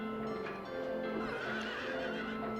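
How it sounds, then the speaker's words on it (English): Horses neigh and whinny in Silent Hill 3, a survival horror game. The calls come steadily under droning ambient game sound, with no talk. "we have to kill all of these horses who are breathing toxic gas"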